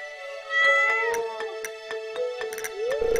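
A cat meows in Stardew Valley, a long rising meow followed by a run of shorter chirpy meows at an uneven rhythm, close and clear with no talking.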